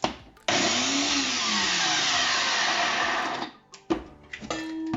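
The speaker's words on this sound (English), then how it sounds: "Blend it all together" An electric blender whirs loudly as it grinds toasted bread into breadcrumbs. It runs steadily for about three seconds, then cuts out and gives a few short restarting pulses close up.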